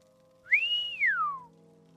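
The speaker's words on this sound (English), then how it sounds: "Yeah, the whistling, like right in my ear." A single clear whistle in a modded video game, rising quickly and holding a bright tone before gliding smoothly downward, heard close and alone over a low steady background hum.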